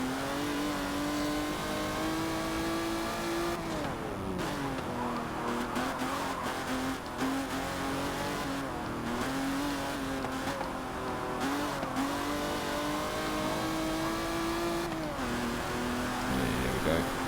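In the Forza racing game, an Aston Martin DBR1 engine revs loudly and steadily, its pitch climbing through each gear and dropping sharply at every shift, with brief tire squeals and a voice talking now and then underneath.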